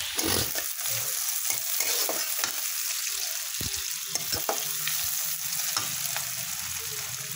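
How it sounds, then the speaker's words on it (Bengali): Onions frying in oil for a fish curry with mixed vegetables, steadily crackling while a spoon scrapes and knocks against the pan in irregular strokes, close and clear. "পেঁয়াজগুলো তেলের সাথে ভাজা হচ্ছে"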